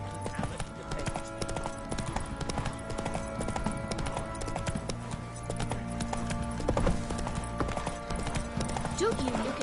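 Horse hooves clip-clop steadily in The Witcher 3 video game, a rhythmic clatter of a ridden horse running, moderately close, with talk layered over it.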